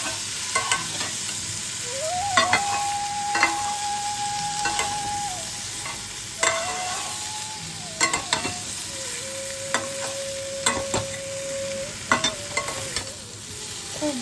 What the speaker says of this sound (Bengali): এবার মানটাকে আমরা মশলার সাথে কষিয়ে নেব।